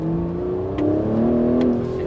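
An Aston Martin DB11 AMR engine accelerates in sports mode, a loud, steady rising drone with harmonic tones climbing through about two seconds, heard up close.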